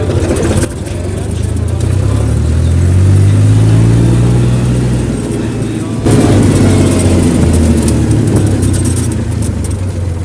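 A vehicle hauling vineyard stakes and scrap wire drives at full speed, its engine droning loud and close with rising revs and a rattling, bumpy body noise; a voice speaks briefly over it.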